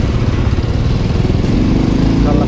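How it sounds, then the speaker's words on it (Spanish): Motorcycle engine close by in city traffic, a steady mid-pitched buzzing drone that holds throughout at fairly loud level with a slight rise in pitch near the end. "Dejarla pasar porque si no casi me pisa con la moto."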